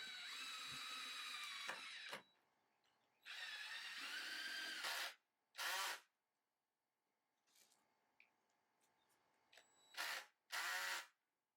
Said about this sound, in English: I started to screw wood for the steps.